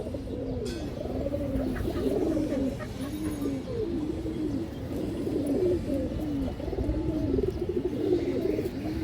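Pigeons at a farm coo steadily and close, many overlapping rolling calls repeating throughout with a busy low background.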